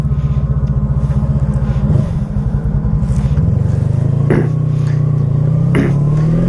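A 1985 Honda Magna motorcycle pulls away in first gear and climbs through second and third, its loud, close engine drone rising with a brief dip at each gear change and no voices over it.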